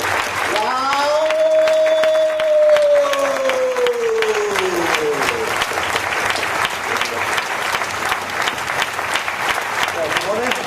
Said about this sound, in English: So with a round of applause, let's welcome Dr. Lim Siow Jin.